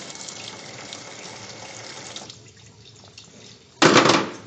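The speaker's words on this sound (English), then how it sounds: "and I'm going to flush test cock number 2" Test cock number 2 on a backflow preventer being flushed: steady spraying water that eases off midway, then a sudden loud burst of gushing water near the end, close by and without speech.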